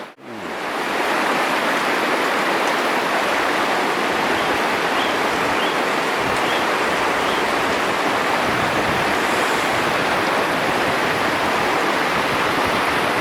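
Flowing water of a New Zealand trout stream rushing steadily and close by, a dense continuous wash heard alone without voices after a brief start.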